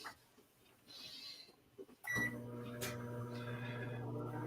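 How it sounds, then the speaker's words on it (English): A kitchen microwave oven hums steadily after a click, with a brief beep near the start, heard faintly from a distance in a quiet room. "sounds like someone's hit the microwave"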